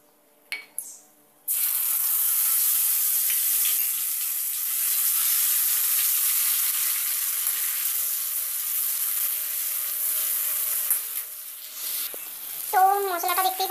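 A spice paste of ginger, turmeric and chilli powder hits hot oil with a sudden loud sizzle, then fries steadily with a bright hissing crackle. Faint clinks and a brief voice are heard near the end.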